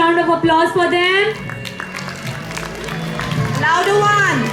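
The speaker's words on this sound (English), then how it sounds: "Can we have a huge round of applause for them?" A school audience applauds parents on stage at a primary poetry and storytelling event, a couple of seconds of crowd clapping between stretches of a speaker talking over a microphone.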